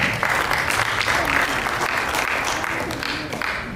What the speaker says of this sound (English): Please, a round of applause once more.